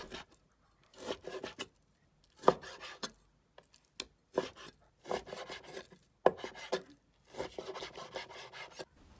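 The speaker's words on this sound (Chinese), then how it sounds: "洗完之后再改刀给它切成小块。" A knife cuts washed pork, about two parts fat to eight parts lean, into small pieces, giving short bursts of scraping, slicing strokes in an irregular rhythm with quiet gaps, close by and without talk.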